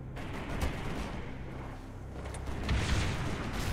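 Rocket launcher fire in the video game Halo 3: dense, rumbling booms and blasts that swell louder toward the end, with no talking.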